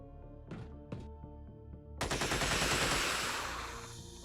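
Gunfire in the turn-based strategy game Xenonauts: two short sharp shots, then a loud sustained burst of rapid automatic fire over a low game soundtrack, with no talking.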